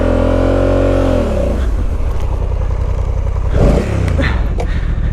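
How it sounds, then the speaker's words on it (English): An ADV motorcycle engine held at a steady loud drone, then the throttle drops and blips as the bike is spun around on a dirt trail, with a brief scrape near the end. "plant our left foot and use the throttle to spin the bike around"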